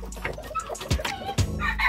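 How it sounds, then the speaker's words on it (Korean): Black chickens on a Korean village farm cluck in a series of short calls, near and moderately loud, with other birds and farmyard sounds around them. "까만 닭"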